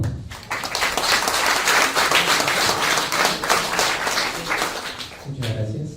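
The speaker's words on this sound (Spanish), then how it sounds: "Un aplauso, por favor." An audience at a book award tribute event bursts into a loud, dense round of clapping that runs for several seconds before cutting off abruptly near the end.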